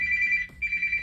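A Samsung Galaxy Flip phone rings nearby with a steady, bright electronic tone that cuts out briefly and then resumes, heard loud and alone.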